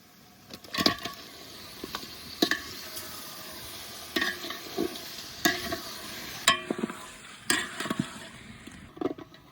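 Marinated country rooster meat sautéing in spiced oil, with a steady sizzle under repeated scraping strokes of a spatula against the pan, close and fairly loud.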